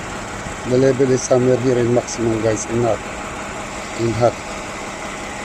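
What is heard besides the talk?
Toyota Kluger/Highlander engine idling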